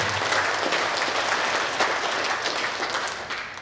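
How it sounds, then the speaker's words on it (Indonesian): An audience at a savings-and-credit cooperative's annual members' meeting gives loud, sustained applause, a dense wash of many hands clapping together that fades slightly toward the end. "Tepuk tangan untuk pintu air."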